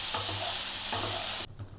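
Cauliflower florets fry in hot oil and are stirred around a pan, a steady close sizzle with scraping strokes that stops abruptly, leaving quiet kitchen sound.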